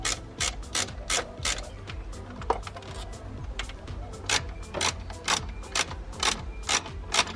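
A ratchet loosens a bolt on a car's blow-off valve, sounding as rapid bursts of sharp clicking pawl strokes in repeated back-and-forth runs, close and crisp.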